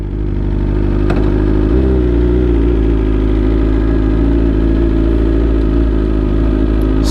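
A 2020 BMW S1000RR liter-bike engine idles and revs loudly up close, a steady heavy drone with a slight rise partway through and faint clatter on top.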